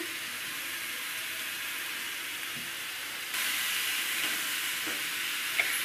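Tomatoes and onion frying in a pan for karela kalonji, a steady close sizzle that grows louder partway through, with a few soft scrapes of stirring and no talking.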